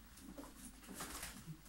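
Pigeons give a few faint, low coos in a brief, quiet moment.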